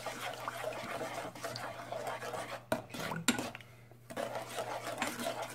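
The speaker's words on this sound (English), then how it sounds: "Mix it together with the butter." Sugar being mixed into butter for lemon curd in a bowl, making steady scraping and stirring sounds with a few sharper clinks of utensil on dish, close and moderately loud, with no talking.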